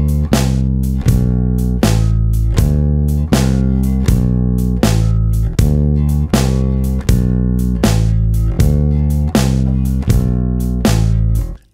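Electric bass plays one bar of a 12-bar blues turnaround, a descending major-scale line from the fifth down to the root, in a steady rhythmic pattern of repeated plucked notes, loud and close, with no talking.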